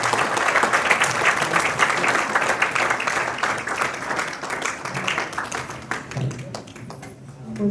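A church audience applauds warmly after a sermon, sustained dense clapping that is loudest at first and gradually thins and fades toward the end, with faint voices underneath.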